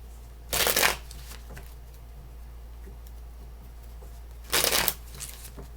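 Two short bursts of tarot card shuffling, a quick riffling flutter about four seconds apart, close up over a quiet low hum.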